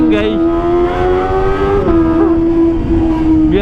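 A Kawasaki ZX25R motorcycle being revved hard near its limit, a loud, sustained high-pitched engine scream that dips briefly and climbs again, close by.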